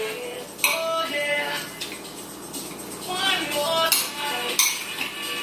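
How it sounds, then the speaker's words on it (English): A spoon scrapes and clinks against a bowl while vegan salad dressing seasoned with cayenne is stirred, giving a few sharp taps and soft swirling scrapes beneath a person talking. "We're just going to stir this a little bit."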